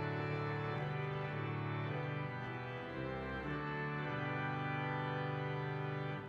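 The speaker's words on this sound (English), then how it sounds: "If you have the full swell pretty much going, which is a sound something like this." A pipe organ sounds with the full swell drawn, sustaining thick, growling chords with a brief dip midway, steady and close, with no voices.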